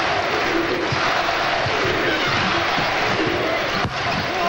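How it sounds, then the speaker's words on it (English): A college basketball arena crowd at an SIU versus ISU game chants ISU, a dense, loud, continuous roar filling the whole stretch with faint court thuds beneath. "And the crowd is chanting ISU."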